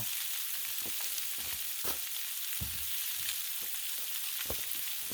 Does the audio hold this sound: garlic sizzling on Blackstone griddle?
yes